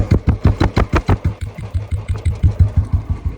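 A motorcycle engine, started with the choke pulled, runs with a loud, close, rhythmic chugging that stays steady and unbroken.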